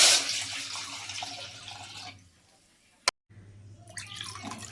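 Water is poured from a cup into a pot while cooking jaggery kudumulu, a splashing, trickling stream for about two seconds before it stops, followed by a single sharp knock and quieter kitchen movement.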